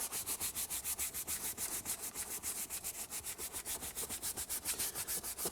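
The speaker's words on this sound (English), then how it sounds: "by using the brush, the bristles actually allow you to get a deeper clean by allowing you to get deep into the material and to the texture itself" A bristle brush scrubs textured leather car upholstery in quick, even back-and-forth strokes, a soft rhythmic rasping heard close up with no talking.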